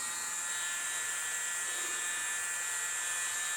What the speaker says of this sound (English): I'm getting my little thing here that goes on my mini blower.